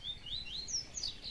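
A papa-capim grego (grass seedeater) gives a series of short, high chirps at an afternoon outing on a rural engenho, faint and fairly distant over a low background murmur.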